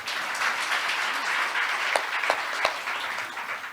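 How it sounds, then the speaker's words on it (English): A conference audience breaks into sustained applause welcoming a moderator, a dense wash of many hands clapping at even loudness, with a few sharper individual claps standing out near the end. "please welcome him with a big round of applause"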